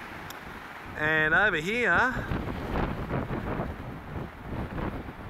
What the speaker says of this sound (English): I don't know if you'll hear this because it's very windy.